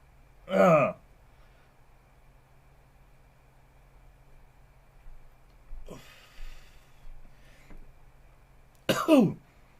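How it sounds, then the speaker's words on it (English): A single harsh cough up close, then quiet breathing and a throat-clearing sound, ending with another sharp cough after a long pause. "I'm just gonna sit here and cough for the next 5 minutes."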